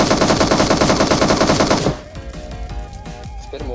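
Rapid automatic machine gun fire in a video game, a loud dense burst of shots for about two seconds, then cutting off into quieter game sounds with lighter scattered noises.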